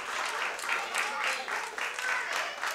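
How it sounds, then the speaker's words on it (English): Wrestling crowd at an EPW show clapping for wrestler Trace in steady rhythmic bursts, a sustained wash of applause filling the space. "here all the people like clapping for Trace"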